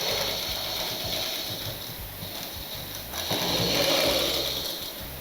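Sewing machine stitching a petticoat hem on the wrong side, a steady mechanical whirring hum with a rhythmic clatter that grows slightly louder and busier partway through, close by with no talking.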